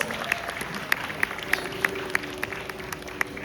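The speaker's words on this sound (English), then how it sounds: "Please give them another round of applause." Fairly quiet applause from a studio audience at a promotional event for upcoming Netflix Philippines shows, with a steady patter of hands and a few sharper claps standing out at regular intervals.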